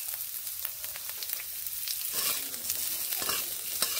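Drumsticks (moringa pods) fry in oil over a medium flame, giving a steady close sizzle and hiss, with a few louder scraping stirs partway through and no talking.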